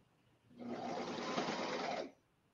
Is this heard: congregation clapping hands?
no